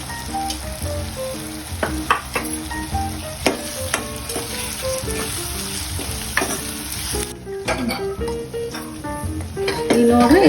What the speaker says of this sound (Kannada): ಈಗ ನೋಡ್ರಿ ಇದೆಲ್ಲ ಎಣ್ಣೆಗೆ ಮೆತ್ತಗಾಗೈತ್ರಿ.